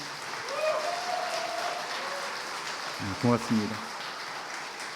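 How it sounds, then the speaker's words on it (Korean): Applause at a church ordination ceremony: a soft, steady patter of congregational clapping heard somewhat distant and faint, while a voice briefly speaks over it partway through. "우리 인사할 때 다시 한번 뜨겁게 축하의 박수를 보내주시기 바랍니다."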